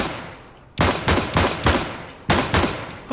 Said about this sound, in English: the dual Berettas. So, I believe these to be a 9mm gun.